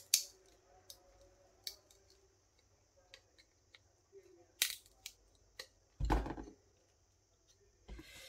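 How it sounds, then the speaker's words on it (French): Pliers cutting through recycled plastic, producing sharp isolated snaps and cracks spread irregularly over several seconds, one heavier crunching break midway, close and quiet between clicks. "Je prends une pince et je commence à couper tout doucement. Vous faites attention parce que ça craque."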